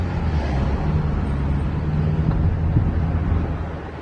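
A steady, low engine rumble with road noise from inside a moving Vauxhall Astra H with a replacement 1.6 engine, continuous and even throughout with no talking.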